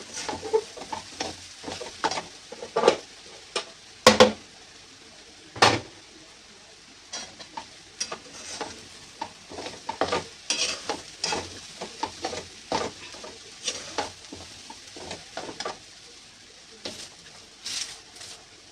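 Soaked stale chapati crumbs are stir-fried in a pan with a long run of irregular scraping and tapping strokes from a spatula over a soft sizzle, close and busy with occasional louder knocks, and no voices.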